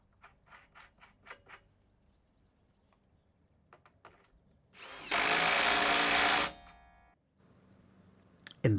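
Nuts on bolts are tightened with a power tool while a polytunnel greenhouse is built, mounting a doorpost with washers: a run of short clicks and taps gives way to one loud, sustained whir of about a second and a half, then quieter clicks.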